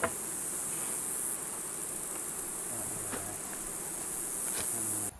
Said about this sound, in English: Now the netting is full of bees.